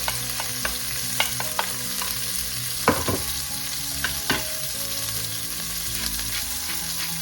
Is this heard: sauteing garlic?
yes